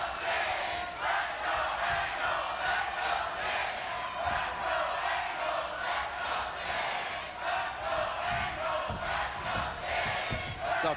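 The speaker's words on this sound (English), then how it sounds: "the crowd divided here in the Impact Zone for champion and challenger" A wrestling arena crowd at a TNA Hardcore Justice main event roars and cheers in a sustained, dense wall of voices, split between the champion and the challenger, steady and loud throughout.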